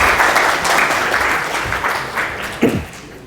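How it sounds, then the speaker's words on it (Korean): An audience at the PyCon APAC 2016 conference applauds a speaker with loud, dense clapping that holds steady for several seconds and then thins toward the end. "모두 큰 박수 부탁드립니다."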